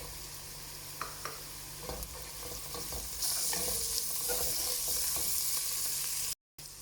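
Ginger and garlic sizzling in a frying pan with onion and broth cubes for chicken margoog, a steady close hiss of frying with a few stirring clinks, rising louder midway.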